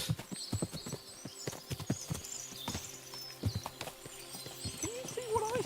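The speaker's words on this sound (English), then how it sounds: "What a lot of horses!" Many horses in the medieval game Kingdom Come clop along with overlapping hoofbeats over a background of birdsong, and a horse whinnies near the end.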